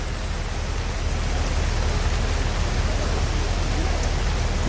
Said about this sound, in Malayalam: നല്ലൊരു മഴ ഉണ്ട്, നല്ല ഇടി മിന്നൽ ഒക്കെ ഉണ്ട്.